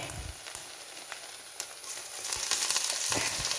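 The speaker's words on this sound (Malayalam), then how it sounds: "ഇനി ഞാൻ അതിലേക്ക് ഇടുന്നത് ഉഴുന്ന്, ഉലുവ, ജീരകം, കടുക്." Urad dal, fenugreek, cumin and mustard seeds sizzle in hot oil for a pineapple thoran, a steady close frying hiss with scattered small pops and crackles that grows slightly louder toward the end.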